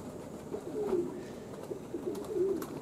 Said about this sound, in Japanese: スカッとしない空の中を飛び回ってる鳩たちです。